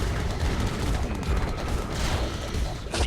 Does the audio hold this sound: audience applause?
no